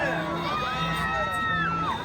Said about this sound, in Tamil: சீட்டி அறியுங்கள், கைதட்டுங்கள், வீரர்களை உற்சாகப்படுத்துங்கள்